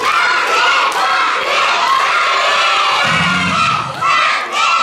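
Children's teams at a church presbytery event cheer together in unison, a loud massed crowd of young voices shouting in rhythmic bursts throughout.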